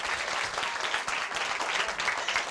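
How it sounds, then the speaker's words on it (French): A circle of children claps together in a steady patter of applause, close and continuous for a couple of seconds with no talking over it. "Alors, on applaudit très très fort pour Tanti Salamata, c'était bien."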